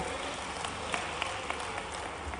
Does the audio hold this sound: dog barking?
no